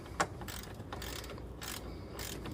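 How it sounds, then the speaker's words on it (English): Wrench ratcheting a bolt tight on a 5th Gen Toyota 4Runner oil catch can install, giving brief bursts of quiet metallic clicking close by, with a sharp tick near the start. "I'll finish tightening it down with my wrench right here"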